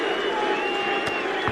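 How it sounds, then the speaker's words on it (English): An England cricket crowd at a Test match against India claps and murmurs in a steady, moderately loud wash of sarcastic applause, with a couple of brief louder bursts near the end. "Sarcastic applause, you'd say, from England."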